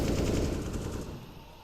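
AK rifle fire in a Counter-Strike match, a dense rattling automatic burst of rapid close shots that fades and echoes out toward the end.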